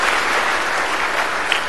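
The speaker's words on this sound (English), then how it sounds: "let's give Father Ray a nice round of applause" A group applauds Father Ray, a priest who has just been dressed in liturgical vestments: steady, dense clapping at close range, fairly loud and even for about two seconds with no talk over it.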